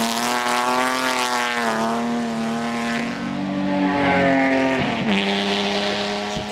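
A car with a full straight-pipe exhaust, no crossover, X-pipe or H-pipe, revs loudly and close by, its harmonic engine note rising and falling through gear changes with no talking.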